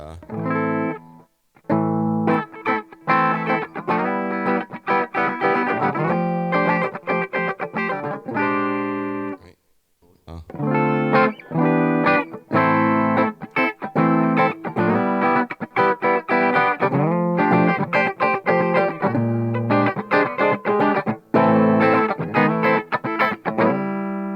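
Electric guitar fitted with Kinman PAF Astound humbucker pickups, played through a Mesa amp with heavy distortion: loud, dense chords and riffs that ring on continuously, with brief breaks near the start and around the ten-second mark.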